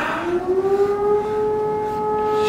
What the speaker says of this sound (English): To hear that siren like that, and knowing you're not supposed to be outside because of curfew.